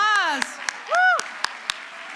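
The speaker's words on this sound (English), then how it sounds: "Let's give our dancers another big round of applause." A conference audience gives scattered applause for dancers, with a handful of distinct, separate claps spaced out over a couple of seconds and a nearby voice whooping between them.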